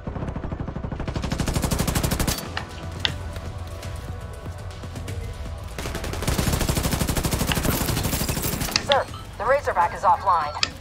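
Gunfire in the shooter game The Division 2: dense, rapid automatic bursts fill most of the stretch, broken by a short lull, with a voice briefly speaking near the end.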